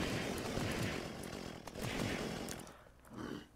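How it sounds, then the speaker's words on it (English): A chainsaw in the video game Unturned revs and drones at moderate loudness, with its whine rising and falling in uneven bursts before it briefly dips near the end. "Chainsaws."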